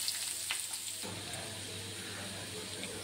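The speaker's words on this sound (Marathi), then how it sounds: "थोडंसं राई घातली, कढीपत्ता, कांदा," Mustard seeds, curry leaves and onion fry in hot oil, a steady close sizzle that grows fuller and broader partway through, with faint clinks of stirring and no talking.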